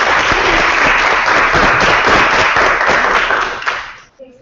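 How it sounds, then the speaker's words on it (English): A live audience gives a round of applause, loud close clapping from a sizeable crowd that holds steady for about four seconds, then drops away abruptly. "Round of applause."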